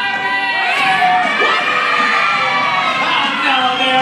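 A crowd of children yells and cheers loudly all together at a pirate-themed ski show at Legoland Florida, a continuous excited roar of high voices.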